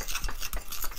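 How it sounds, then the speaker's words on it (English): A chopstick stirs a coffee face mask mixture in a small bowl, producing quick repeated scraping strokes about three times per second, close and moderately loud. "you take your really expensive chopstick and you mix it all together"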